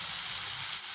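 Chopped onion sizzles in a hot pan for a veg momo filling, a continuous bright frying hiss that stays steady and close with no talking.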